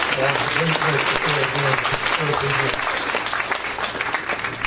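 Loud, dense applause from a symposium audience at an African diaspora investment event, continuous clapping throughout with a low voice murmuring beneath, tapering slightly toward the end.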